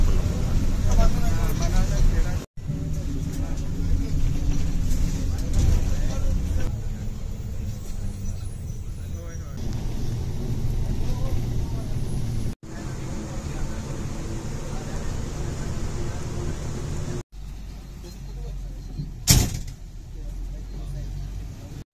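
A full MSRTC state-transport bus travels nonstop from Dapoli toward Kolhapur, its low engine drone and road rumble steady inside the cabin, with a few abrupt cuts and a brief clunk near the end.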